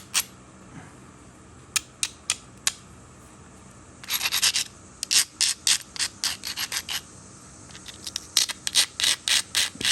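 An abrader rubs along the edge of a small blocky stone piece, making a few isolated scrapes followed by a quicker run of dry, rhythmic rasping strokes, close and clear with no talking.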